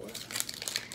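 Brief close crinkly crunching, a dry rustle with sharp crackles mixed with speech in the background.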